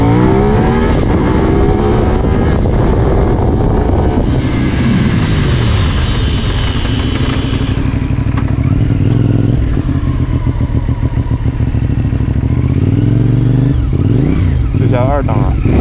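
A CFmoto 450NK motorcycle engine roars loud and close, its pitch climbing and dropping through repeated surges under acceleration, with a rattling clatter toward the end.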